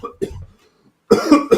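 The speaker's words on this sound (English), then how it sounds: "I started coughing." A person coughs in a few short, sharp bursts close to the microphone, with a brief pause of silence between the first coughs and the last ones.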